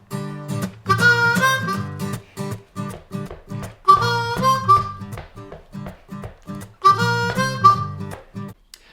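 Harmonica playing a one-chord blues tune, with rhythmic chugging breaths punctuated by bright, wailing held notes that return in repeating phrases, close and clear, no voices.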